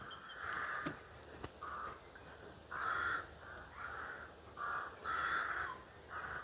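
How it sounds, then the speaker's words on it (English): Crows caw repeatedly at moderate distance in a woodland cemetery, a series of rough calls in uneven clusters over faint background noise. "Hear those crows."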